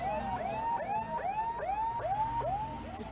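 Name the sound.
fire engine siren arriving at a vehicle fire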